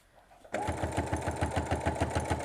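A sewing machine runs continuously as it stitches back over a reinforcement seam on a fabric table runner, a fast steady needle rhythm starting abruptly after a brief quiet moment, close and fairly loud with no talking.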